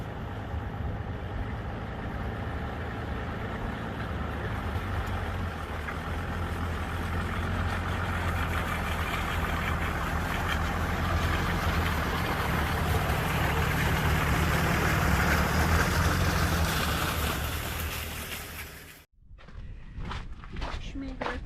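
A vehicle drags a tire across a sand road to smooth it at a pool construction site. A steady engine rumble and broad scraping roar continue for about nineteen seconds, then cut off abruptly to near quiet with a few faint sounds.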